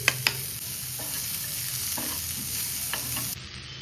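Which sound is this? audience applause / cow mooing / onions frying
onions frying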